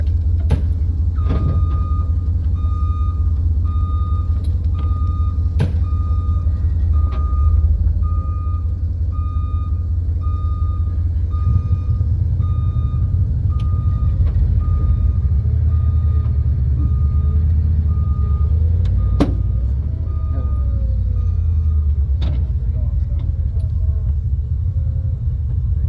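A truck's reversing alarm beeps in a steady repeating pattern over a low diesel rumble as it slowly pulls a vehicle back with a rope, with brief clanks and a voice heard near the end.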